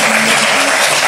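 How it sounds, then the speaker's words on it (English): Loud, dense round of applause from an audience at an annual town hall meeting, steady clapping filling the whole moment, with a faint voice briefly underneath. "Let's give her a round of applause."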